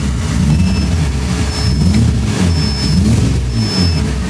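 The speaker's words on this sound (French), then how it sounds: "Et quand tu appuies, le V12 s'allume." A V12 engine in a Batmobile replica car idles with a steady low rumble, rising and falling in gentle surges like light revving, close and continuous.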